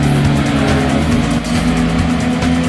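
An electric car in Gran Turismo on the PlayStation drives and brakes with regenerative braking, a loud steady tonal motor whine with layered road and tire noise, running continuously without pauses.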